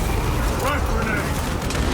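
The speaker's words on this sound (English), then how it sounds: "Frag grenade!" A frag grenade goes off amid combat in the video game Warhammer 40k: Space Marine, its dense booming blast mixed with gunfire and heavy rumble that stays loud throughout the short stretch.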